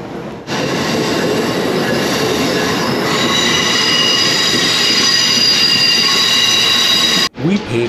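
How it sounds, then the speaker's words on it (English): An Amtrak train rolls into a station close by with a rumbling roar and high, sustained squeals from the wheels, cutting off abruptly near the end. "Just waiting for our train to show up on the southbound over here."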